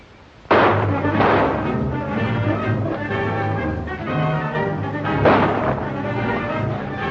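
Gunfire in an old black-and-white western film shootout: several sharp bursts of shots, loud and close, over a busy soundtrack with music and movement throughout.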